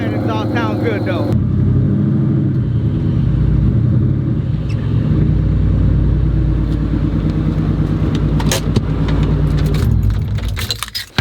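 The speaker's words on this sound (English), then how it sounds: "that exhaust sounds good though" A hail-damaged Ford Mustang Terminator Cobra rumbles loudly and steadily at idle after a cold start, its deep exhaust close and continuous, with voices talking over it before it cuts off.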